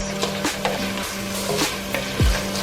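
Collard greens sautéing in a pan with no meat, giving a steady broadband sizzle and a few short stirring scrapes and knocks, close and moderately loud with no voices.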